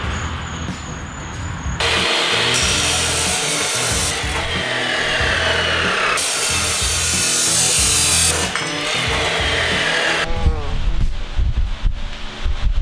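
Power saw cutting metal tube pieces for a cross kart frame, loud harsh bursts of cutting in several long passes separated by short pauses, close up with no talking.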